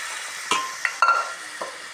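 A peas and potato curry sizzles faintly in a pan after hot water goes in, with a few sharp spoon clinks and stirring scrapes against the pot.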